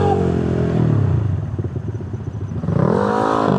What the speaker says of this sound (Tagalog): Ito, napakalakas ng motor na ito